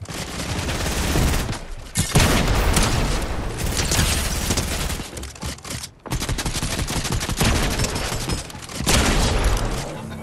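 SMG fire in Fortnite crackles as rapid, loud automatic bursts, several long strings of shots with brief pauses between, dominating the mix with little talk.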